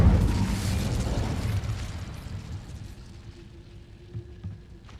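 Incendio fire spell cast in the Hogwarts Legacy video game, a loud fiery burst that roars at once and slowly fades over several seconds, with faint rumbling after.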